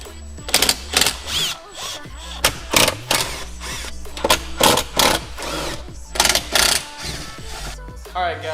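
Power tool whirring in repeated short bursts while removing the four windshield bolts on a 2018 Jeep Wrangler JL, with talk throughout.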